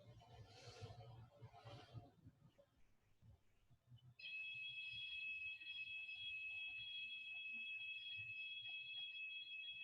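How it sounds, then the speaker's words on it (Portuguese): A few seconds of muffled talk give way to a loud, continuous high-pitched alarm that rings steadily and without a break to the end. "Toca-se um alarme"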